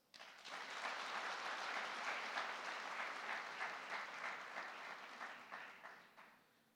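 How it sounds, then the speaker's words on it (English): Graduation ceremony audience at a university gathering in Keetmanshoop breaks into sustained applause, many hands clapping steadily from a hall-wide crowd before tapering off near the end, with no speech over it. "I thus call on all of you, at least, to give him an applause."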